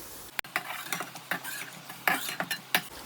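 A spoon stirs yogurt into chicken pulao in a pot over high heat, giving a series of close scraping and clinking strokes over a faint sizzle, with no talking.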